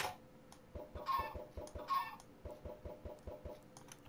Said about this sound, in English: spawn some chickens inside here